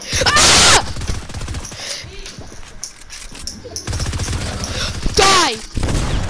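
Rapid gunfire in the video game Fortnite bursts loudly near the start and again near the end, with excited voices and game sounds carrying through the middle.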